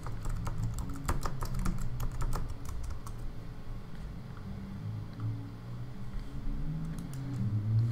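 Steady, quiet clicking of fingers typing code on a computer keyboard while writing a particle system program, dense bursts at first and then sparser keystrokes over a low background hum.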